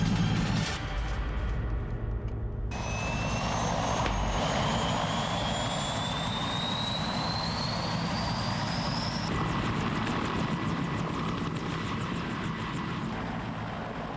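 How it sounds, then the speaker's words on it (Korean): A Cobra attack helicopter runs its engine and turbine with a loud, constant roar and rising high-pitched whine, heard close and continuous for about fourteen seconds without talk. "대량의 무기를 장착한 공격 헬기."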